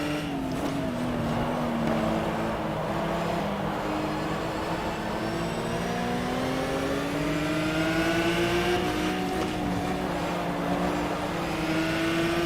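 NGT race cars in a racing video game drone continuously with engines revving, pitch sweeping up and down through gear changes as several cars run close together, loud and unbroken throughout.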